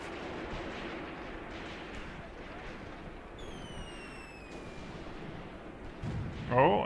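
Off-map artillery shells landing in the WWII tactics game Graviteam Tactics, a continuous rumbling barrage of distant blasts with a whistling incoming shell overhead and a closer impact at the end.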